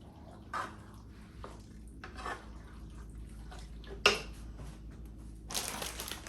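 A spoon stirs a creamy tater tot casserole mixture in a bowl, with soft scraping and a few light clinks, including one sharper knock, all fairly quiet.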